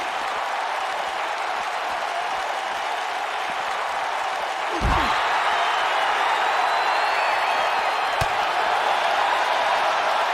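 Crowd noise in the WWE 2K19 wrestling video game, a dense steady roar of applause and cheering filling the clip, briefly punctuated by a low thud midway and a sharp tick near the end.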